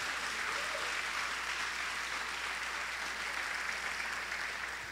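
Church congregation clapping together in a large, sustained burst of applause that holds steady and fairly distant throughout, with no speech over it.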